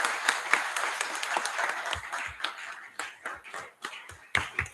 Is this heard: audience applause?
yes